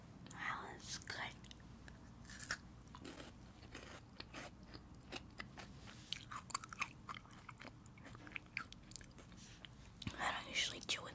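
Close, open-mouthed chewing of a strawberry-flavoured candy from Amsterdam, with wet smacks and crunchy bites repeating through the clip, some soft whispering mixed in.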